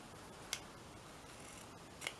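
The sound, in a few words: scissors cutting fabric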